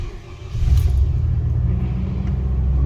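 A 2000 Chevy 2500 Express van engine cranks and catches, settling into a low, steady close rumble at idle with no voices.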